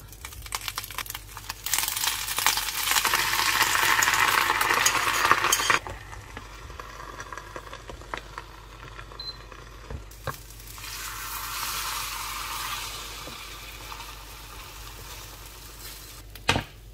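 Spinach fries in oil seasoned with pepper and salt, a bright sizzle rising loudly for several seconds, then settling into a quieter crackle with occasional stirring clinks and a second swell of frying.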